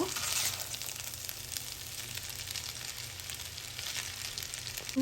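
Vegetables for vegetarian chow mein frying lightly in a pan while being stirred, giving a steady, even sizzle at moderate level throughout with soft clinks and stirring scrapes.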